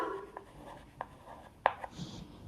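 Pen or marker writing on a page during a maths lesson, a few short scratchy strokes and taps, fairly close and faint, with no talking.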